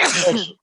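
A single sneeze bursts out close by during a live college football talk show, short and breathy with a sharp onset that trails off quickly, alone without talk over it.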